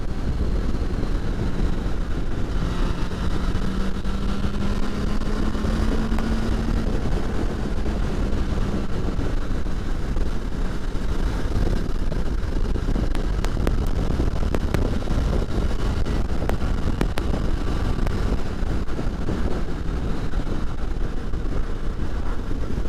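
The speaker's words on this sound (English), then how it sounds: "riding motorbikes in the morning is really good" A motorcycle rides along on a morning road, its engine a low, steady drone largely buried under constant loud wind roar and buffeting at the microphone.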